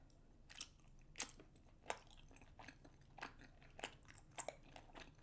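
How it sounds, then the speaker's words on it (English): Spicy black bean rice cakes eaten close to the microphone: quiet, repeated chewy bites with soft crunches and squishes in an irregular rhythm, no talking. "This rice cake is super chewy."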